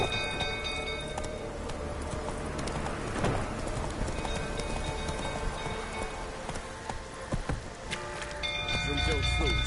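Roach the horse in The Witcher 3 gallops with steady clip-clop hoofbeats under a busy game soundscape, with a rain-like wash and occasional voices.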